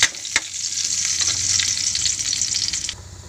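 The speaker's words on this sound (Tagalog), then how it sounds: "Guys, magigis na ako ng bawang." Garlic sautés in a hot pan for chicken arroz caldo, giving a steady, close sizzle with a few stirring knocks and scrapes, and no talking.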